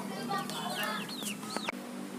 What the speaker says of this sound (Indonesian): itu ayam baru gua beli